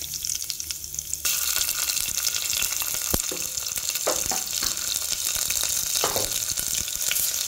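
Curry leaves and ginger-garlic paste hit a hot pan for a cucumber and dry fish curry, bursting into a loud, steady sizzle after a second of near quiet, with scattered pops and crackles throughout.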